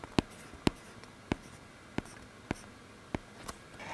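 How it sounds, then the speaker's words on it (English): A stylus writes on an iPad fitted with a Paperlike screen protector, giving soft scratchy taps about every half second, faint and close with no talk. "writing on the Paperlike screen protector is like writing on paper"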